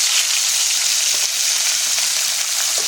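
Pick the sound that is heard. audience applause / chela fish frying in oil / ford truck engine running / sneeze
chela fish frying in oil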